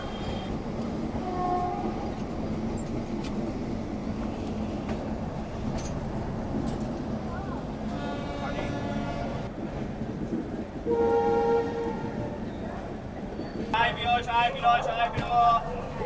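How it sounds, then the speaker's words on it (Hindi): The Varanasi Vande Bharat express passes with a continuous rumbling roar of wheels and carriages, joined partway through by sustained horn blasts and tonal whines, heard fairly close over a person talking. "बिल्कुल वाराणसी वंदे भारती है ये।"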